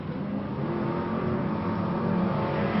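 A BriSCA Formula 1 stock car accelerates hard down the home straight at Boston, a steady, dense engine roar sustained throughout at a moderate distance, with no clear voices over it.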